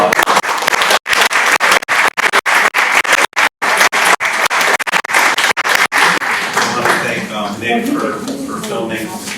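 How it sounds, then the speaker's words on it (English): Audience applause for panelists at the end of a panel discussion on student transition, brisk clapping with choppy gaps that fades into murmuring voices and talk. "Let's give our panelists a round of applause"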